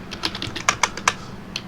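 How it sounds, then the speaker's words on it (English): Keystrokes on a computer keyboard as a name is typed during 3D modelling work in Blender 2.8, a quick run of close, crisp clicks with a few louder taps spaced through the brief burst, no talking. "Just typing Windows as the name."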